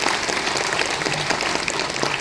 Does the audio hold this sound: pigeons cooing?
no